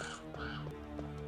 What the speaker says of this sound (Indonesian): itu kan ada burung gagak lagi kalau nggak salah sebelah sini